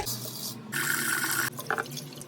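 Tap water runs and splashes into a vessel of toor dal being washed, with bursts of pouring, brief pauses and dripping, close and fairly quiet with no talk.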